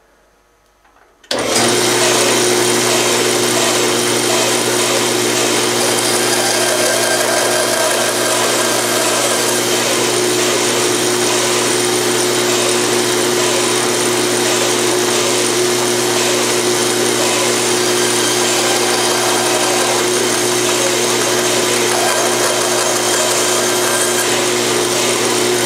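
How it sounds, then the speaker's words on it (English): A power saw starts abruptly and runs continuously, cutting an angle into a banjo bridge blank with a loud, steady whine and buzzing grind that holds evenly for over twenty seconds, close and alone. "I put the saw like this, put this right on the straight line, and it just cuts the angle that I want"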